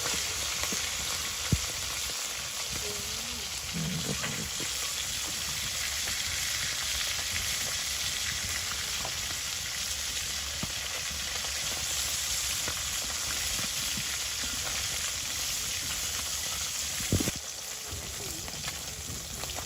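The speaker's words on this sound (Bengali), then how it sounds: "তো মাছগুলো যাতে বেশি পোড়া না লাগে ওই বিষয়টা লক্ষ্য রাখতে হবে" Carp fish frying in a pan of oil in a village kitchen in Hatiya, a steady close crackling sizzle running throughout with a few faint clinks and a brief louder knock near the end.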